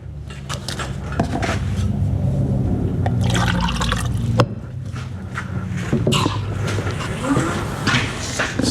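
A hot motorcycle control cable end is plunged into water, giving a loud, close run of hissing, bubbling and sputtering that rises and falls with no speech.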